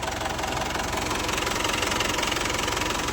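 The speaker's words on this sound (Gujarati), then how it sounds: "આ છે આપણું ટ્રેક્ટર." A tractor engine idling near a river, a steady close diesel rumble with a rapid knocking pulse that holds even and loud throughout, with no talking.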